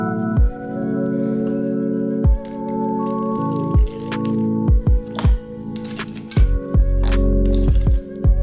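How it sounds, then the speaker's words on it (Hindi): Ice cubes dropped into a Punjabi-style lassi make a series of close, sharp clinks and wet knocks over a steady background hum. "अब इसमें मैं डालूंगी आइस क्यूब्स।"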